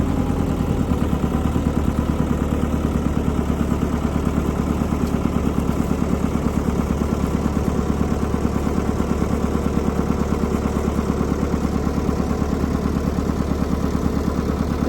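An excavator digger's engine runs steadily at idle after being stood back up from a fall, giving a continuous mid-low chugging drone with a fine regular clatter, close and loud, with no voices.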